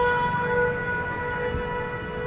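An ambulance siren stuck in a traffic jam, a steady sustained wail droning on over low traffic rumble, moderately loud and close, with no talking.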